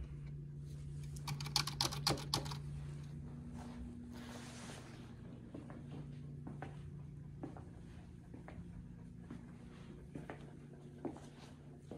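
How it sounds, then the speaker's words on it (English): Keys clatter on a HyperX computer keyboard in a secondhand shop, quick bursts of typing near the start, then scattered lighter taps over a steady low hum of store ambience. "check out the HyperX keyboard."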